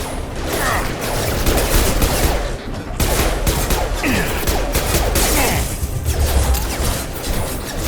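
Sustained gunfire in the video game Mass Effect 2, loud rapid bursts of shots and crashing impacts continuing almost without pause, with a brief break midway.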